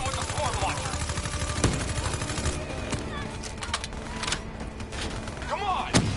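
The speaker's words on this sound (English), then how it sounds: "Hit him with the swarm launcher." Black Ops III combat carries repeated heavy launcher-style blasts and sharp gunfire cracks over a constant loud battle bed, with distinct booms spaced out near the start and end, mixed with voices.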